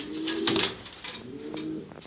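A male pigeon coos up close, with two rolling coos in about two seconds and nothing else heard.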